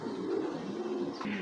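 A giribaz racing pigeon coos softly and steadily at close range, low rolling tones with no talk.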